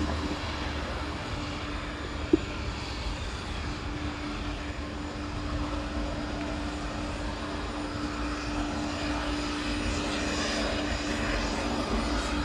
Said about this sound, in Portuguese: Chegando ali um avião da Azul.